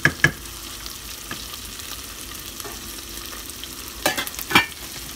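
Beef fries and sizzles in a pot on a home stove for a stew, with a steady soft crackle under a few sharp scraping stirs at the start and end.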